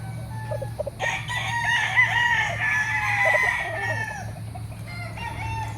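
Gamecock roosters crow at a farm in Batangas, with one loud, drawn-out cock-a-doodle-doo close by over a steady low hum and scattered clucking, and fainter calls around it.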